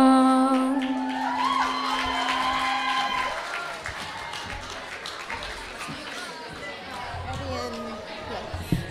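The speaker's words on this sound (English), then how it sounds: "Can we give her another round of applause?" Applause from an audience at a school café music night at Waiuku College, with steady clapping mixed with crowd chatter and scattered whoops and cheers, continuing at an even level throughout.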